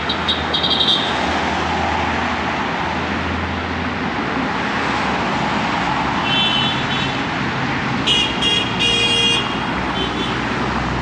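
Car horns honk in short bursts over steady roadside traffic and engine rumble at a Thai mountain summit with a small roadside shrine, a cluster of beeps coming near the end.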